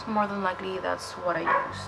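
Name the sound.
dogs barking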